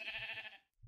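Sheep in the Minecraft video game letting out a single short, nasal bleat, close and fairly clear, ending abruptly with a faint low thump.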